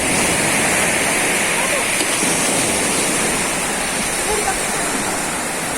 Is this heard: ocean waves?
yes